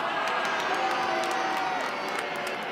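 Football crowd at an Adelaide United versus Newcastle Jets A-League match roars steadily after a foul, a dense continuous wash of cheering and shouting that holds loud throughout.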